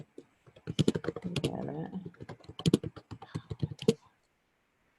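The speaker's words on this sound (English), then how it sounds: "Who's typing? Somebody typing?" Fast clacking keystrokes on a computer keyboard in rapid bursts, fairly close, with a brief spoken remark from someone nearby mixed in.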